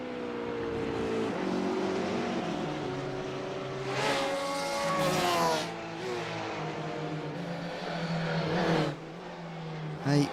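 A race car in a sim racing game at Road America, in a PCA team racing series, crossing the finish line: a loud engine note climbing and dropping through gear changes, with a second revving pass.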